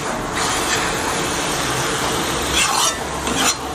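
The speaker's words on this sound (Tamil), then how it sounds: "இப்போ நல்லா எண்ணெயில் வதங்கி வந்திருக்கு." Mushroom chukka, cooked with ground onion and tomato, sautés in oil in a pan. A steady, close frying hiss runs throughout, with louder scraping and stirring bursts near the end.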